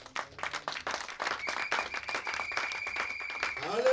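A church congregation claps in a burst of scattered, rhythmic applause, fairly close, with faint voices and a sustained tone underneath.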